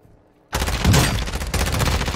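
Shotgun blasts in Call of Duty DMZ, a loud burst of rapid heavy gunfire erupting suddenly after near silence and continuing densely to the end of the clip.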